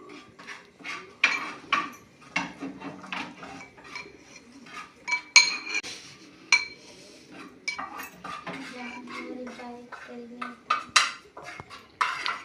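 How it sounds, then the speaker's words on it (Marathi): Boiled potatoes crushed in a mortar and pestle, with repeated sharp knocks and clinks of the pestle in an irregular pounding rhythm, close by, with faint voices in the background. "तर खलबत्त्यात टाकून घेऊया आपण बटाटे सगळे आणि आपण याने ते बारीक करून घेणार आहे"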